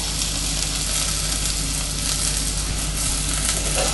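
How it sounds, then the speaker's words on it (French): Small slices brown in a hot pan with a loud, steady sizzle and crackle, close up and without pause. "Donc là, on va les faire dorer aussi les petites tranches."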